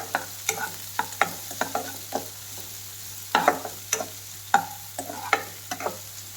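A mixture being stirred and fried in oil until brownish, with repeated scraping strokes of a spoon against the pan over a steady low sizzle, close and fairly quiet.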